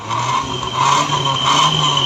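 A car engine idles steadily up close while the accelerator is pressed lightly, the hum rising gently in a couple of soft swells with no voices over it.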